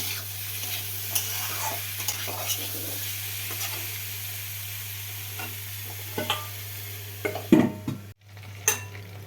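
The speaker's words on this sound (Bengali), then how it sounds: "এদিকে আমার মাংসটা মোটামুটি কষানো হয়ে এসেছে" Chicken pieces are stirred and sautéed in a pan on a gas stove, with soft scrapes and clicks over a steady low hum and a brief louder clatter near the end.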